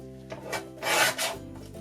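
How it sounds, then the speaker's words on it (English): Paper being trimmed for planner decoration, a few short close rasping scrapes in quick succession. "So I'm going to trim off this bottom piece first."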